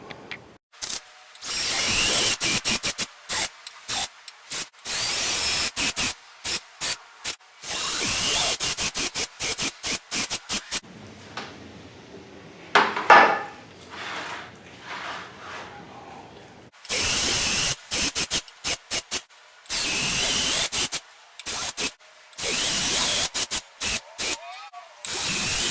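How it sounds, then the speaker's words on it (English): A 7/8 inch Forstner bit boring counterbore holes about half an inch deep into wood, a loud whining drill in repeated short bursts with brief gaps and a longer grinding stretch mid-way. "my counter bore holes. I'm using a Forstner bit, 7/8 Forstner bit, and like I said, I'm sinking those about a 1/2 inch deep."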